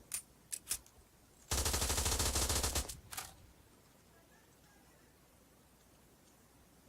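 A submachine gun in a Modern Warfare video game mod fires a few quick single shots, then a loud rapid burst of about a second and a half, then fades to quiet room noise.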